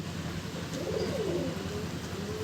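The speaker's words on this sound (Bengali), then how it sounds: "কালো পায়রাটা সুন্দর পায়রা" A black Giribaz pigeon coos once, a soft low rolling call, fairly close over a faint background hum.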